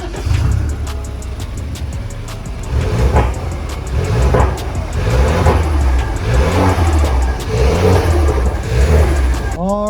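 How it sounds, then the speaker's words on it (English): A BMW 328i F30 engine idles and is revved in repeated rising surges, loud and close, with a rough mechanical rumble throughout and a short squeal at the end. "Let's start the car and hope for the best."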